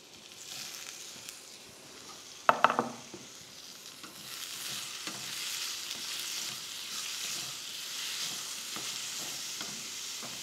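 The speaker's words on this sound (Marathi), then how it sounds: "कांदा लाल झाल्यावर त्यामध्ये टोमॅटो," Tomatoes hit a pan of browned onion in oil, giving a sharp burst of clatter and sizzle, then a steady frying hiss with light stirring knocks that carries on quietly.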